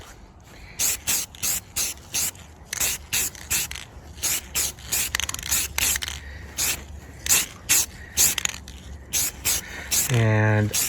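An aerosol can sprays metallic aluminum paint outdoors in a series of short hissing bursts at a steady rhythm, with a brief voice at the end.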